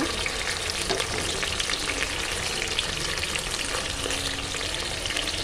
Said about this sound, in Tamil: இப்போ வெங்காயம் நல்லா பொன்னிறமாக வணங்கிருச்சு